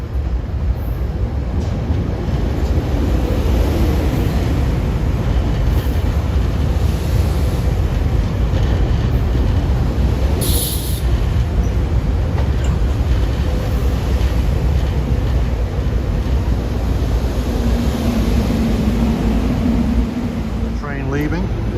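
A SEPTA GE Silverliner IV electric commuter train rolls by with a loud, steady rumble and roar throughout, a brief high tone near the middle, and a person talking over it.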